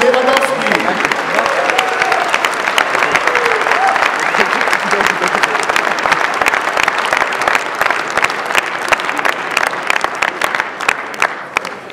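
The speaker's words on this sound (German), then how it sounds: "Und bitte auch noch einen Applaus für seinen Gegner" Sustained applause from a large crowd at a boxing event, dense clapping throughout with a voice talking over it at the start.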